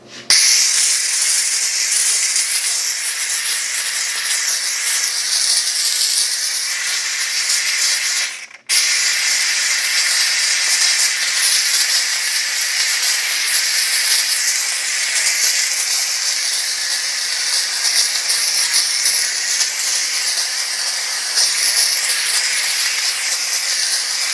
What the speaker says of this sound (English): we got steam.